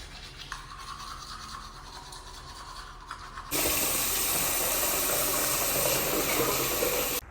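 Toothbrush scrubbing teeth up close, a steady fast brushing hiss that grows louder and denser halfway through, with water and bathroom background faintly underneath and no talk.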